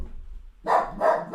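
A dog barks twice nearby, two loud sharp barks after a brief quiet start, with a third beginning at the end.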